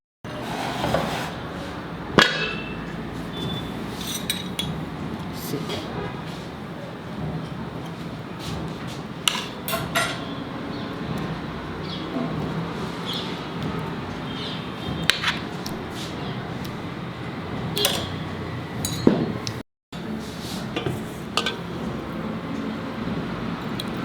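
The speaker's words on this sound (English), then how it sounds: "now I will serve it in a bowl" Scattered clinks and scrapes of utensils against a bowl as cooked khichdi is spooned in, soft irregular taps over a quiet room hum with little else.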